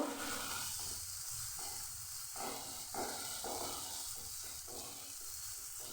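Spice paste frying in a pan for a Bengali ridge gourd, potato and egg ghonto: a continuous loud sizzle with rhythmic stirring scrapes pulsing through it, no voices.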